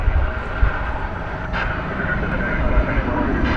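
Airplane on the runway at DFW Airport in Texas at night, a steady low rumble of engine noise filling the scene at a distance, with a brief louder swell partway through and no talk.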